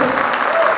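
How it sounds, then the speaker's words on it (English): Brief, loud burst of audience applause during a performance at Western Art Week, a dense crowd clapping together with a faint murmur of voices. "Give her a round of applause real quick."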